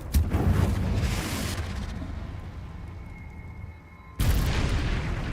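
The Confringo spell cast in Hogwarts Legacy, a deep booming blast at the start with a fading rumble and faint tonal hum, then a second sudden loud boom near the end.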